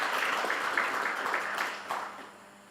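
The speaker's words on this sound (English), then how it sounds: "I would like for you all to give these people an applause because they really work hard." Audience applause for honored guests at a city State of the City address, a steady dense clapping wash that tapers off toward the end.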